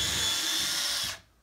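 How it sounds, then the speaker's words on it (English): A power drill bores a pilot hole into wood for nails while building a wooden bee box, a steady close whine that runs for about a second before winding down and stopping. "If I pre-drill it, it helps the nails go in nice and straight"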